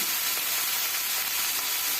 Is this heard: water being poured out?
no